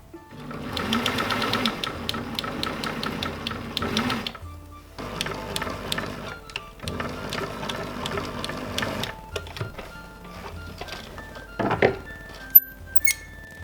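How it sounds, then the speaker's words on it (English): A domestic sewing machine runs in steady bursts while stitching the shoulder and side seams of a medieval garment, whirring rapidly for a few seconds, pausing, then running again before quieter handling clicks and small knocks near the end. "Now I'm going to sew my fronts and my backs together at the shoulders and sides"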